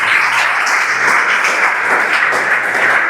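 Church congregation applauding during a sermon: loud, continuous clapping from a crowd filling the room at an even level throughout.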